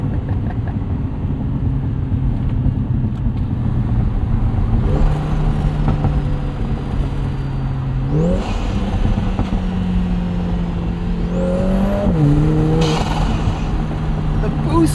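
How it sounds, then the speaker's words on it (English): A 2024 Lotus Emira Turbo with its AMG engine accelerates hard with the windows down, its rising drone and boost whine climbing through several gear changes, loud and close inside the cabin while someone talks over it. "It's like McLaren levels of boost noise."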